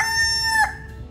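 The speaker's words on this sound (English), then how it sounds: "whole time all you heard was this rooster" One rooster crows close by, a single loud, bright call that cuts off sharply, leaving quiet background.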